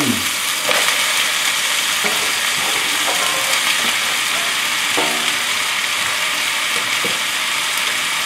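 Chinese greens sizzle loudly as they stir-fry in hot oil with chicken nearby, a constant crackling hiss broken by scraping stirs and occasional clacks of the utensil against the wok.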